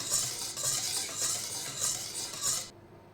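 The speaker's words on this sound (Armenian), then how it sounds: "Միացած մի լավ խառնում եմ ու ավելացնում եմ խմորին։" Homemade cake batter being stirred by hand in a bowl, a soft rhythmic swishing with about five gentle bright pulses, close and quiet, no talking.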